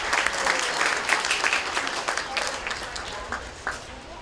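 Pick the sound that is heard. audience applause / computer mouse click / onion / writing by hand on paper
audience applause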